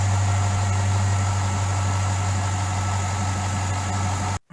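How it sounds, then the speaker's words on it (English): A Holden VZ with an LS1 V8 idles steadily just after a new alternator was fitted, giving a constant low hum with a faint whine on top. It runs alone with no talk and cuts off at the very end. "I can hear the charging sound of the alternator"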